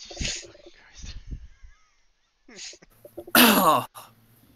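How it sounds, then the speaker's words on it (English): A loud, sharp nose blow near the end, following a few quieter snorts and vocal sounds. "Please don't make me laugh when I'm blowing my nose."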